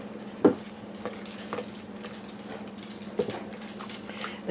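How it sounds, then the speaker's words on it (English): A spatula stirring a cocoa mixture for a from-scratch chocolate cake, producing soft scraping and a few light knocks against the bowl, close and quiet with no talking. "take a spatula and mix that together"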